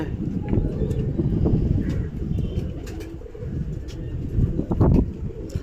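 Pigeons coo and flutter as a small flock flaps down to land, soft repeated cooing and brief wingbeat bursts heard close under low background noise, with a voice speaking faintly at times.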